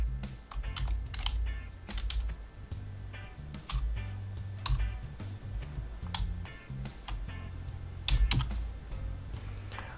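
Keys clatter on a computer keyboard in quick irregular bursts as a name is entered, close and moderately quiet over a low steady hum, with no one speaking.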